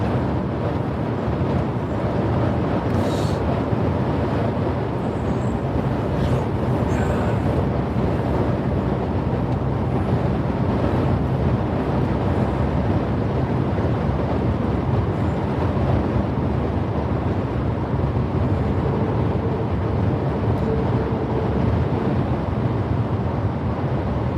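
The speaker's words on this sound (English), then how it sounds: "We're coming up to a headwind." A headwind buffets the microphone in a steady, loud, broadband rumble and roar that holds for the whole stretch, with no voices breaking through.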